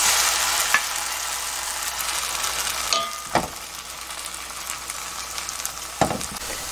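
Grated potato pancake with Spam and spicy chili peppers frying in a pan, giving a loud, steady sizzle with a few soft scrapes and taps from a utensil.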